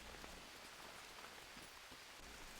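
Rain in the survival game Green Hell, a dense, even hiss of falling drops pattering on surfaces, steady and moderately faint across the whole stretch with no voices.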